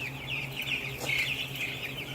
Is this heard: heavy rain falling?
no